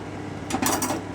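A spoon knocking against a metal pot while sambar dal with bottle gourd and sambar masala is stirred, a short cluster of close scraping clinks over a low kitchen hum.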